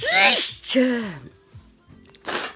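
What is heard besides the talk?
sneeze just after eating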